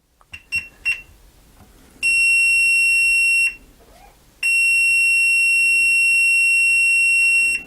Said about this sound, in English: I don't know why it's beeping so much